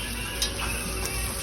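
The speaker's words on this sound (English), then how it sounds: "now you're gonna scrape the garlic in there." Garlic scraped into a hot cooking pot crackles and sizzles steadily, a close, continuous frying hiss with faint scraping ticks and no talking.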